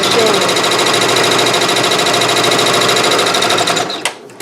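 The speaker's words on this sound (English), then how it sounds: "So then I'll press it again, and it's going to start stitching the first needle." A Janome MB4 embroidery sewing machine stitches the first needle of a design, its loud, close, rapid mechanical chatter running continuously before a brief clack as it slows near the end.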